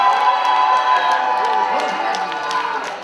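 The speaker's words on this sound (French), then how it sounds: "Vous allez applaudir le personnage." A convention crowd at a 2017 cosplay contest cheers and shouts continuously for a costumed contestant, a dense, loud roar of many voices with scattered clapping and whoops throughout.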